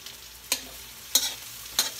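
Pork humba stirred in a frying pan, with three distinct scraping strokes spaced evenly over a soft sizzle. No one speaks.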